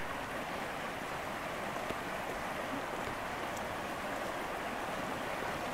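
A small stream runs through an Ardennes forest at the end of night, giving a steady, soft, unbroken wash of flowing water with no voices.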